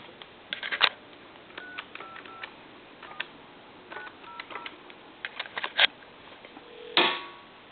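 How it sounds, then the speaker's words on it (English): Telephone dialing on an Italian phone routed through a telephone line, calling a time and temperature number: a series of short, sharp dial clicks and tones scattered across several seconds, ending in a brief louder burst, close and clear with no talk. "put it in the telephone line, and we'll call, like, say, a time and temp number."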